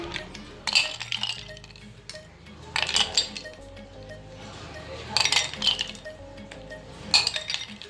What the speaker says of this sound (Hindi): अब बर्फ क्यूब्स इसके अंदर ऐड करेंगे